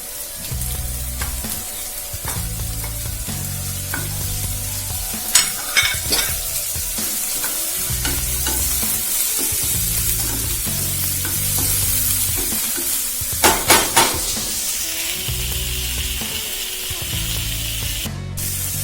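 Crushed shallots sauté in a hot pan with steady sizzling, repeatedly stirred with rhythmic scraping strokes and a few sharp clinks of the utensil against the pan, close and continuous.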